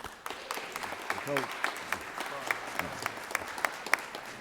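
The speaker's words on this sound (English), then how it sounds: "Let's give them a round of applause." Applause in a state senate chamber for visiting high school winners, a scattered round of individual claps with a voice briefly heard over it partway through.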